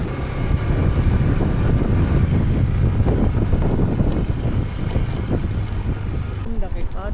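Strong wind buffeting the microphone during a motorcycle ride under an overcast sky, a loud continuous low rumbling roar with a brief voice faintly heard near the end.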